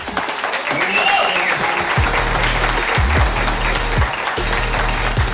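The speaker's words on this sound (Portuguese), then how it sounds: "Muitos aplausos para Everton Lima!" A game show studio audience applauds a comedian coming on stage, the clapping loud and dense, with a low tonal music bed and whoops or a voice rising over it.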